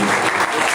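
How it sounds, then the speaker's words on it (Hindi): Audience clapping at a welcoming ceremony, a dense steady patter of many hands filling the short stretch without a break. "तालियां तो बजते रहनी चाहिए।"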